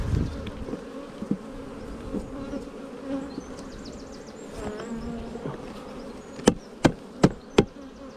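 Honeybees buzz around an open beehive during a swarm-prevention inspection, a steady close drone with individual bees zipping past, then four sharp knocks near the end as the hive is worked.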